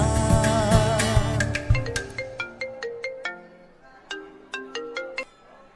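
A phone ringtone plays a bright, melodic chime pattern, repeating short plucked notes in rhythmic bursts, loud and close with no talking.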